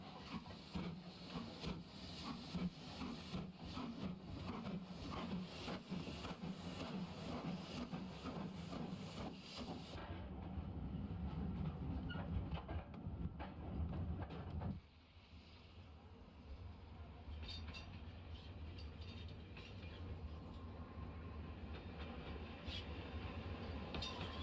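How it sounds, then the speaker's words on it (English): A 4MT steam locomotive hauling a train on the approach to Doniford, a rhythmic rattling and rumble of wheels and carriages passing, steady and moderately near, easing off midway and fading to a quieter rolling. "we pick up the 4MT on the approach to Doniford."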